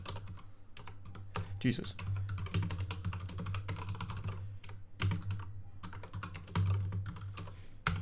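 Clicky keystrokes on a computer keyboard tapping in quick irregular bursts, close and fairly quiet, under a steady low hum with a brief spoken exclamation.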